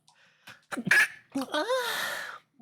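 A person sneezes, with a short sharp burst preceded by hitching breaths and followed by a drawn-out voiced exhale, close and fairly loud.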